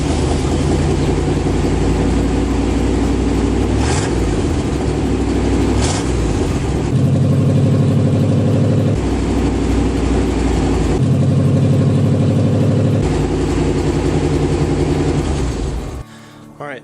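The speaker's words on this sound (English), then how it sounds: "see how just the Y pipe, catalytic converter, and intermediate pipe affect the sound of the exhaust" Chevrolet K2500 truck running with only the Y pipe, catalytic converter and intermediate pipe fitted, a loud deep exhaust idling and revving in several bursts, with a few rising blips before it cuts off abruptly.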